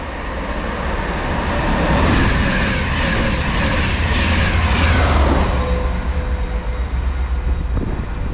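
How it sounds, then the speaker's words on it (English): A locomotive-hauled Transport for Wales train to Cardiff Central passes with a loud, sustained rumble and rail roar that swells mid-pass and eases toward the end, with a faint tonal squeal late on. "It's a Transport for Wales service to Cardiff Central. It's a loco hold."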